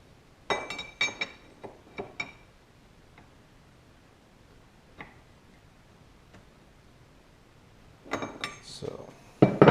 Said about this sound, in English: I'm going to kind of hand tighten the barrel nut here to keep the receiver from moving